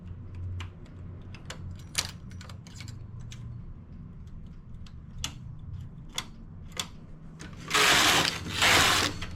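A knitting machine works on ribbed pants, sharp clicks and ticks spaced irregularly over a low hum, ending in two loud rushing sweeps of the carriage across the bed.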